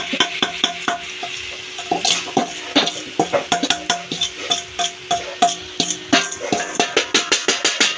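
Khichuri rice mixture being stirred in a metal pot, with a dense run of sharp clinks and scrapes of a spoon against the pot that repeat steadily, close and loud.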